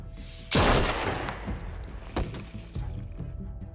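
A single loud, sharp gunshot in The Walking Dead: A New Frontier is followed by a lingering rumble. A couple of smaller cracking impacts come a moment later.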